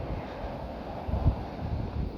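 Blizzard wind outside a house in Buffalo, New York, a low steady roar buffeting the microphone, swelling in a few heavier gusts near the end.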